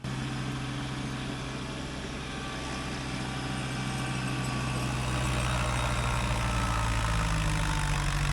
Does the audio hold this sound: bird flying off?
no